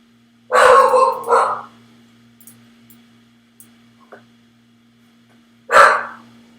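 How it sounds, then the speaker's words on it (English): A dog barks indoors at home, a quick cluster of loud barks followed after a quiet pause by one more sharp bark, over a low steady electrical hum. "My dog's barking, sorry."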